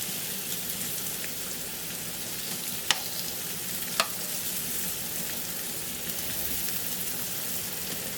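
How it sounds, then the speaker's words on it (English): Mushrooms browning in oil in a pan make a steady, dense sizzle that fills the whole stretch, close by, with two brief clinks of a utensil against the pan. "So we just want to get our mushrooms browned."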